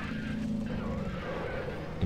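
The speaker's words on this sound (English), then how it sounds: "can hear the rumble strips" Car in the NASCAR Racing 2003 video game running over rumble strips, a steady close engine drone with a rough buzzing rattle held throughout the short stretch.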